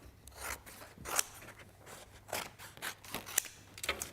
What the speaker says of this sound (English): So let me grab my scissors.